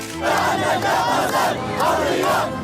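A crowd of Syrians shouts and curses in a loud, continuous roar of massed voices, rising in waves of overlapping yells with no single speaker standing out.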